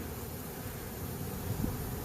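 Honey bees clustered in a swarm being captured give off a steady, dense buzzing hum, close and continuous with a slight swell near the end, with no voices.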